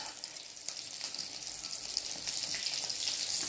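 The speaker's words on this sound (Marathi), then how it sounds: "हे बघा, हे असं तळून घ्यायचं." Sweet potato slices fry in hot oil in a pan, giving a steady close hiss of bubbling and sizzling that builds slightly over the few seconds, with no talking.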